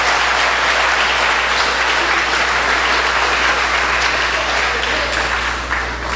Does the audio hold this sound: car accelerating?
no